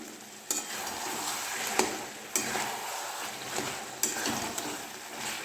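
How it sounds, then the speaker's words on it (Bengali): Mutton with red chilli powder frying in a pan, giving a continuous soft sizzle broken by sharp scraping stirs every second or so, close and moderately quiet with no talking. "ফ্রাই হচ্ছে।"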